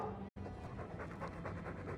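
A Mabari war dog in Dragon Age 2 pants steadily and softly, a continuous rhythmic breathy huffing, close but quiet, briefly cutting out near the start.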